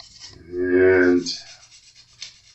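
Light sandpaper rubs across stainless steel frets on a Jazz Bass being refretted, a single short rasping stroke heard up close.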